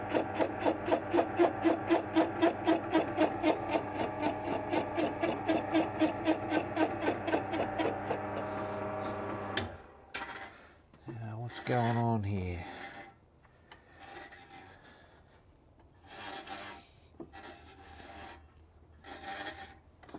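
Boring machine cutting an engine cylinder: a steady, rapid rhythmic chatter for about ten seconds that stops abruptly, followed by softer scraping, clunks and brief talk.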